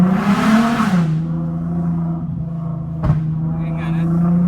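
A Volkswagen Golf R32 engine revs high and loud for about a second, then falls back to a steady, rumbling idle with a brief blip partway through, while people talk nearby.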